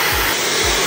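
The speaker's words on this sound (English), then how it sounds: "Quick little blow dry." A Dyson hair dryer blow-drying hair gives a loud, continuous, close-up whoosh of rushing air that stays even throughout, with no voices.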